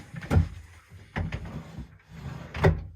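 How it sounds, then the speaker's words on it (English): Sliding door on a large cabinet in a tiny home being moved, with three scraping, rumbling slides and knocks at the end of travel, close and fairly quiet with no talking. "above a big cabinet with a sliding door."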